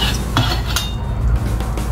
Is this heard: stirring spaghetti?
yes